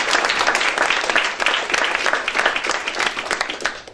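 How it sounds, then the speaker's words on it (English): Audience at an evening literary event applauds warmly, close and full, with dense overlapping clapping sustained for the whole few seconds. "One last round of applause for"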